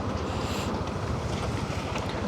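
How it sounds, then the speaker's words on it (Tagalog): A sea breeze on the Legazpi City waterfront, a steady, close rush of wind over the microphone with a faint wash of sea behind it and no voices. "Asimoy ng hangin."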